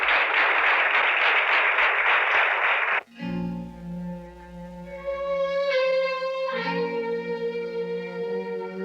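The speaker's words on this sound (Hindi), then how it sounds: "तालियां।" A crowd in a 1990 Hindi action film scene bursts into loud, dense applause for about three seconds, then it cuts off abruptly and music with sustained tones follows.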